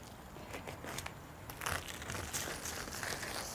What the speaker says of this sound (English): Put my knife down in there and cut.